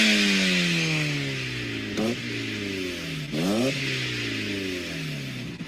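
A Mazda Miata NA with the 1.8 engine and Cobalt exhaust revs up and down, with sweeping harmonic climbs and falls and two sharp blips near the middle, loud and close with no talking.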